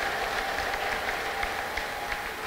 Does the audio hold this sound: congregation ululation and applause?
yes